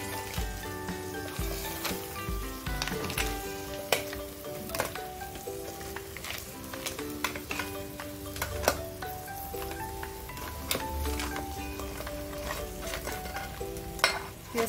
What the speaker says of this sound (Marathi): हे असं मस्त फ्राय करून घ्यायचंय आपल्याला.